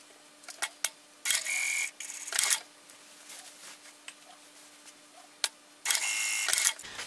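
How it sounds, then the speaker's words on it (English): A sewing machine stitches along a garment hemline, running in two short bursts of fast mechanical whirring, quiet and close, with light clicks and handling sounds between the bursts. "we're just gonna sew right at that hemline that we pressed in from the edge of the folded over seam allowance to the outside"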